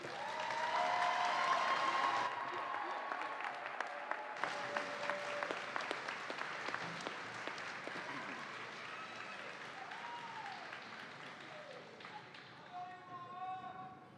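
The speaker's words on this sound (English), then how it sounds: "Can we have one more round of applause for our graduates?" A crowd at a summer commencement ceremony applauds its graduates in a long, sustained round of clapping with scattered cheers and voices, loud at first and then gradually tapering off.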